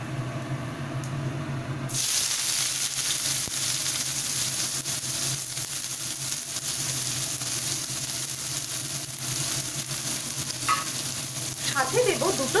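Chopped onions and cumin seeds frying in hot oil for a village-style fig curry, a loud steady sizzle and hiss that begins abruptly after a quieter opening, with stirring scrapes near the end.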